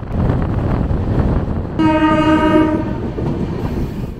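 The 13151 Jammu Tawi Express runs toward Dhanbad with a steady loud rumble and rattle of rolling carriages, broken midway by a long sustained blast of the train horn.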